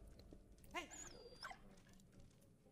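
Puppy in the video game Valiant Hearts whimpering briefly, a thin high whine with a short yelp, soft against quiet game ambience.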